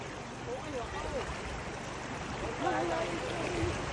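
The strong current of Tinipak River rushes steadily and loudly, with faint voices now and then beneath the constant flow.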